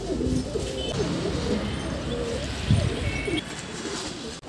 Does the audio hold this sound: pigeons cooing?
yes